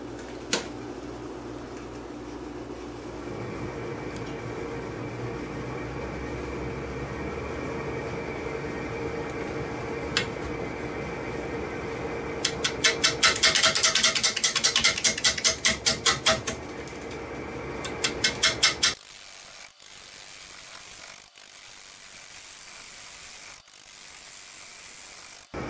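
Wood lathe turning a bowl with a square cutter at about 400 RPM, a steady mechanical drone with a burst of rapid chattering cuts midway, then the motor spinning down to quieter intermittent clicks.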